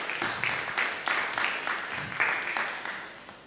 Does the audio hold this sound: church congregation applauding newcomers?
yes